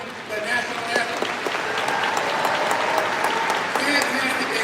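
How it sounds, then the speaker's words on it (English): Audience at a George Mason University graduation ceremony breaks into applause for the concert bands and the anthem vocalist, a full, continuous clapping that swells slightly after the opening and carries on with some voices audible beneath it. "Please give a round of applause."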